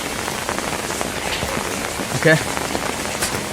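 Heavy, steady rain from Cyclone Burevi pours down close by in Nidur, a dense continuous hiss with a brief spoken word partway through.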